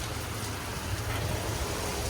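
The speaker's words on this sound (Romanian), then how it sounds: "Ne-a prins ploaia! Rău tare de tot" Heavy tropical downpour in Bali, Indonesia, a dense, loud, unbroken hiss of rain pounding close by with no pauses.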